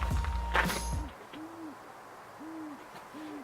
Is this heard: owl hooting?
yes